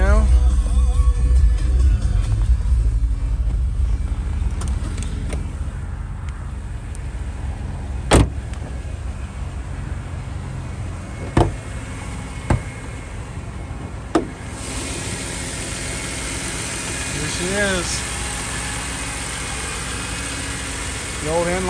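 A 2006 BMW Z4 M inline six-cylinder engine idles steadily after a cold start, a low continuous hum, with a few sharp clicks or knocks and a voice speaking over it at times.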